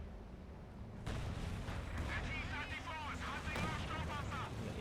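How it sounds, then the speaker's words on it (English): An anti-tank gun fires in the video game Company of Heroes 2, with heavy booming blasts starting after a quiet second and rolling on over a dense battle din with whistling overtones. "The AT gun doing work on this squad here."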